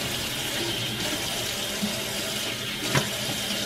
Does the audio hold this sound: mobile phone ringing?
no